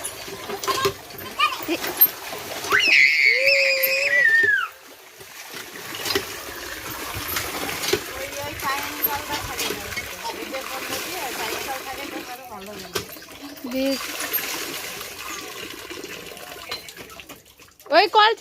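Water running from a tap fed by a motor pump, a steady splashing flow heard under loud, excited talking from nearby voices throughout.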